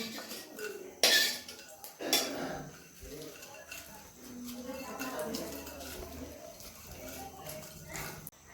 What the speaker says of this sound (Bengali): শুকনো লঙ্কা ভাজা হয়ে গেছে এবারে আমি গুঁড়ি নিচ্ছি